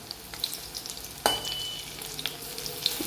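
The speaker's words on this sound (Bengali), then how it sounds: "এইভাবে হালকা লাল লাল করে ভাজতে হবে।" Potato pakoras fry in hot oil and are stirred with a utensil. Scattered scrapes and taps, including one sharp clank, sit over a soft steady sizzle, close by and with no talking.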